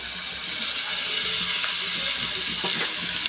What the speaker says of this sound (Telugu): ఇప్పుడు ఈ ఉల్లిపాయలు పచ్చిమిరపకాయలు అనేది ఆయిల్ అయితే ఫ్రై చేసుకుంటూ ఉండాలి